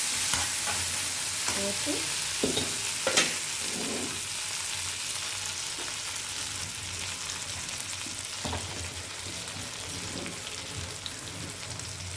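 Hot tempering of asafoetida mixture and coriander sizzles steadily in a pan while it is stirred for a cucumber roti pachadi; a continuous close frying hiss with scraping stir sounds and a brief spoken word.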